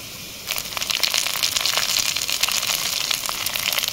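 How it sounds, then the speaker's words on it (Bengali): Chopped capsicum sizzles in a frying pan for egg chowmein, a steady bright crackling hiss that jumps in loud after a quiet half second and holds close and continuous. "এবার দিয়ে দেবো ক্যাপসিকাম কুচি"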